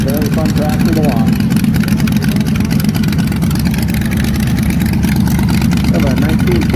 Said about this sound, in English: This tractor's got a 400 small block Chevy engine.